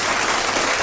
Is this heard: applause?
yes